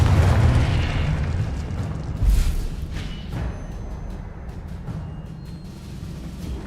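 The Confringo blasting spell goes off in Hogwarts Legacy, giving a loud burst at the start and a sharp boom in the middle, followed by a rumbling game backdrop with scattered smaller pops.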